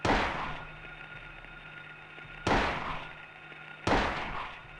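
Three loud, booming gunshots ring out in the Silent Hill 1 video game, spaced a couple of seconds apart, each a sharp blast with a long echoing decay, heard alone without talk.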